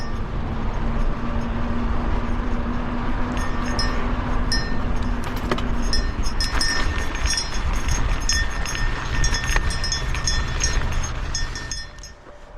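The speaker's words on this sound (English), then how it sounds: "It's pretty windy out here." Strong wind buffets the microphone in a continuous roaring rush, broad and loud, fading slightly at the end, outdoors at Pismo Preserve during a bike demo day.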